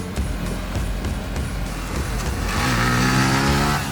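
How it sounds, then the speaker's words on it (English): A 2022 Yamaha MT-15 V2.0 motorcycle accelerates, its engine note rising steadily in pitch and growing louder as the revs climb, close and clear with no talking. "the engine sounds busy on the highway, with the revs sitting at 8000 rpm at 100 kph"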